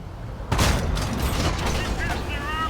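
A tank cannon fires in World of Tanks, a single sudden booming blast with a rumbling tail and mechanical clatter, heard against steady in-game background noise.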